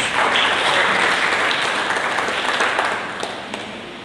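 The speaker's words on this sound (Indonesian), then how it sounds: "Sedikit kali orang yang tepuk tangan ini." A church congregation applauds during a sermon, steady moderately loud clapping that thins and fades toward the end.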